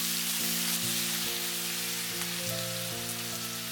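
Ginger and garlic sizzle in a hot pan with caramel and chicken, a steady crackling hiss broken by a few soft stirring scrapes, close and alone with no talking.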